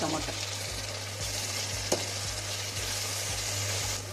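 Tomato with ginger garlic paste fries in a pan, a loud continuous sizzle with a steady low hum beneath and occasional stirring clicks, no talking.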